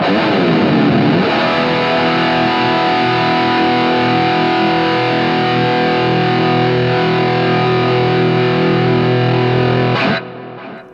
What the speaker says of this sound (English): But basically it's for high gain situations. So this is my guitar tone.